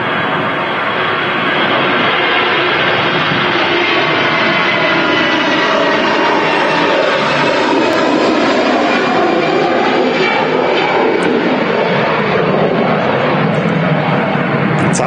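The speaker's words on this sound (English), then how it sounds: "EasyJet on the roll." An easyJet jet airliner takes off from Manchester Airport bound for Dalaman, a loud, sustained engine roar building on the roll with a rising whine and no voices over it.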